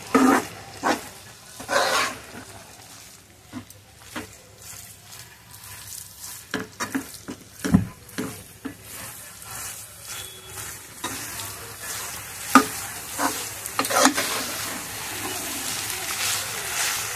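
Noodles being stirred and tossed in a pan, a soft background sizzle broken by irregular scraping and clattering knocks from a spoon against the pan, some sharp and close.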